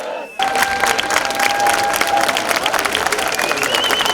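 An educators' protest march against violence in Uşak, Turkey, with unions and students: after a brief quiet start, a crowd bursts into loud, sustained applause and cheering, with whistles and shouts mixed into the dense clapping.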